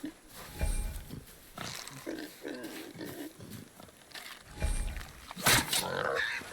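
A wild boar in the video game God of War (2018) grunts and squeals in rough, throaty bursts, with voices talking in between.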